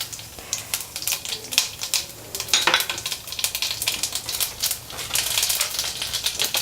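Mustard seeds, bay leaf and black cumin frying in hot oil for a North Indian tomato chutney, giving a steady crackling sizzle with sharp irregular pops and spits throughout, close and moderately loud, with no talk.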